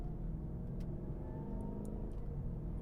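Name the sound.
Mercedes GL 550 twin turbo engine, turbo spooling up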